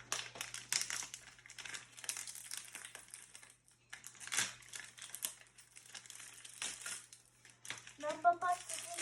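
Toy packaging being unwrapped and opened: repeated close crinkling and rustling of plastic and paper, in uneven bursts, while someone talks over it throughout.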